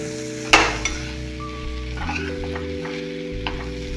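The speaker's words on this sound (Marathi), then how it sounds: "हे चपातीचं पीठ टाकूया. चांगलं मिक्स करून घेऊया." Chapati flour is stirred into sizzling chapati upma in a pan, with a sharp scrape of the spoon against the pan at the start, then a steady frying hiss and soft stirring under a low background hum.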